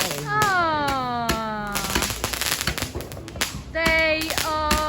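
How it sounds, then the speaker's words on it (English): Bonfire Night fireworks crack and pop in rapid, sharp bursts over a garden, with whistling rockets rising between the explosions and people's voices reacting in the background. "Everybody loves a good fireworks display, don't they?"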